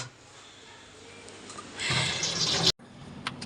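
Tap water runs into a sink while chillies are washed, a soft steady stream that swells louder and splashier near the end before cutting off abruptly.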